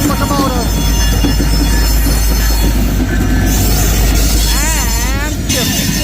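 Freedom locomotive leading a train past on the rails in St Paul, Minnesota, a loud steady close rumble with wheel squeal and a rising-and-falling horn-like tone, under brief talk.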